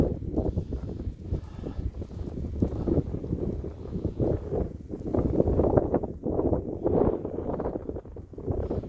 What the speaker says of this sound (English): that wind got a little sharpness to it, ain't it?